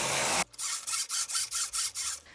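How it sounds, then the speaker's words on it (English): A knitting machine carriage sliding back and forth across the needle bed, knitting rows of blue yarn on a shirt, with a steady run of about eight rhythmic swishing passes, close and clear, with no talking. "I'll put the blue one in the carriage, and I will knit 8 rows"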